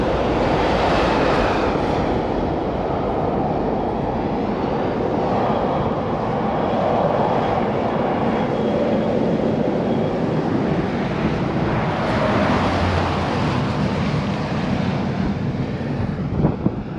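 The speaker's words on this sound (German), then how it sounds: "der Zug hier, der hat aber die Brücke in Schwingung versetzt" A train rumbles across a bridge on the Baltic coast cycle route near Fehmarn, a steady loud roar with deep vibration and rattling wagon noise sustained throughout, no voices over it.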